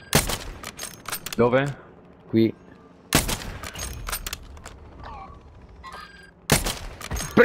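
Sniper gunfire in Call of Duty, sharp loud shots at about zero, three and six and a half seconds with quieter mechanical clicks between, and someone talking in Italian.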